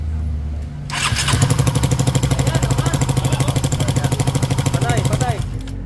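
A repaired engine cranks and fires up, then runs at a steady, loud, rapid chugging idle for several seconds before cutting off, with voices talking over it at times.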